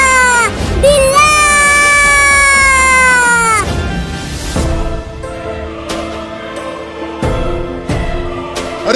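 A cat meows loudly and at length, a long wailing cry that bends downward, followed by shorter, rougher yowls. The sound is close and prominent over some background noise.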